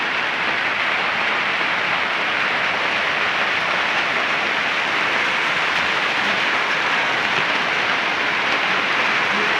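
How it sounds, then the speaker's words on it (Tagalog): Heavy rain pours steadily on a farm, a dense, loud, unbroken hiss filling the whole stretch with no voices heard. "Malakas ang ulan sa amin mga bossing, kaya hindi marinig yung boses ko"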